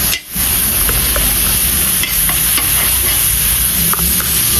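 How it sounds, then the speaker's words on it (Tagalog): Star margarine hits a hot frying pan and sizzles loudly and close, a steady dense crackling hiss that holds for several seconds after an initial brief dip. "Nainit na yung ating kawali. Maglagay na tayo ng star margarine."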